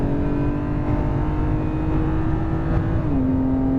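A 2020 BMW M2 Competition on a quarter-mile acceleration run, its engine roaring loudly and steadily close by, pitch climbing then dropping briefly at a gear change near the end.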